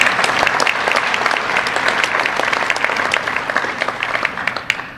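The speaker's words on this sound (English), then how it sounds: "So could I have a round of applause for all of the Hall of Famers?" A sustained round of applause from the audience at the 2025 Milton-Union Hall of Fame ceremony honoring the Hall of Famers, steady and fairly loud, with a few sharper claps standing out near the end.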